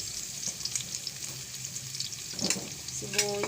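Onions frying in a pan for ginataang manok, Filipino chicken stewed with coconut milk and papaya: a soft, steady sizzle with occasional scrapes and knocks of a utensil stirring, close but quiet, plus a brief clink near the end.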